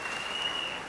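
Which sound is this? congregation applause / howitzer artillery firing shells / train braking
congregation applause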